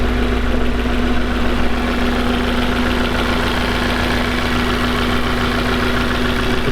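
Honda K24 engine idling in a Hakotora, a small kei truck, through a short exhaust, giving a steady, loud, close drone with a constant low hum and a slightly knocking pulse.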